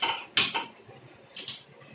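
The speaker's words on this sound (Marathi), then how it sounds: "आता आपण वरती एक कढई ठेवूया" A wok (kadhai) set down on a gas stove: a couple of short metallic clanks and scrapes close by, one sharp knock followed by a lighter clatter a second later, quiet otherwise.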